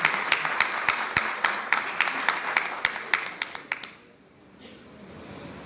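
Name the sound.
audience applause for a speaker at a congress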